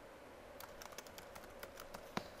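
Quick keystrokes on a computer keyboard while entering text in Photoshop, a soft irregular run of clicks with one sharper strike near the end, fairly close and quiet with no talking.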